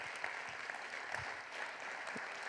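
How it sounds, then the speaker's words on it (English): An audience at a TEDx salon event claps in a round of applause. The patter is dense and moderately distant and runs steadily throughout without anyone speaking. "Give him a nice round of applause."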